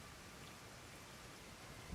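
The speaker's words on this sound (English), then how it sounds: "It's sounding that way because of the rain." Steady rain makes a quiet, even hiss for about two seconds. No voices or other sounds come through.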